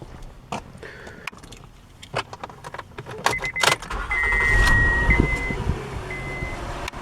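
A Honda Odyssey minivan, fresh from a power steering pump replacement, starts up after a few scattered clicks and knocks, settling into a continuous idle with a faint high whine from the system.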